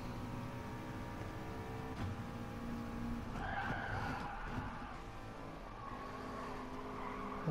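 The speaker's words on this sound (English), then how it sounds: "we now go on board with Muller and the McLaren chasing down Gadget." Race cars battling closely in a racing video game, engines whining and tyres squealing through corners, several cars passing in quick succession at moderate volume with no talk.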